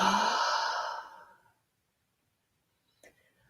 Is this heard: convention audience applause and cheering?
no